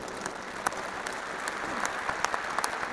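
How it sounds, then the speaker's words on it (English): Audience applause at an interfaith harmony conference, a steady wash of many hands clapping throughout with a few sharper claps standing out, fairly soft and distant. "Give him a big applause. He's Ashok Joshi"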